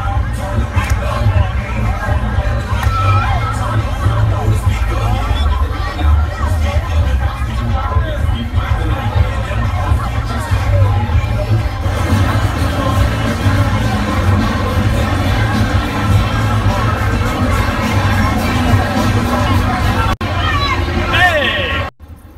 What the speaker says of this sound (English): all this fucking street is a fucking big ass fucking party